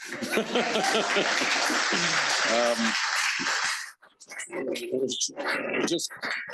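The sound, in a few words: audience applause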